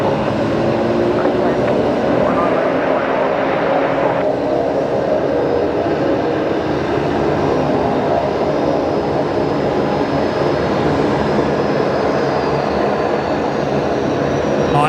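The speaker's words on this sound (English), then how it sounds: "There's a very noisy Saab, I think, coming inbound now." A noisy Saab turboprop comes inbound to Brisbane Airport, a loud continuous engine drone with a steady hum that stays near and unbroken.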